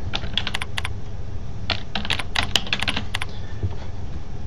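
A computer keyboard being typed on to enter a key pair name: crisp, close keystrokes in quick bursts with short pauses between them, and no voices.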